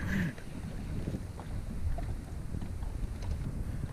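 Steady wind roars and buffets across the microphone outdoors on the water during bass fishing with big worms, a constant low rumble with no voices.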